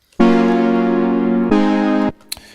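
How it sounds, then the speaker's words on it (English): A software synthesizer driven from a MIDI track in Ableton Live plays two sustained, harmonically rich notes, the first long and the second shorter, loud and up close, followed by a faint click. "In the MIDI track, you hear this part we've been playing."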